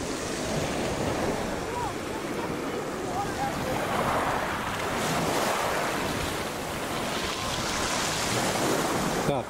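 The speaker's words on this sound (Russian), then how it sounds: "Ой, тут эта волна какая-то непонятная." Sea waves washing steadily onto a beach at Lazarevskoye, Solonikі, a continuous close hiss of surf with gentle swells in loudness and no clear speech.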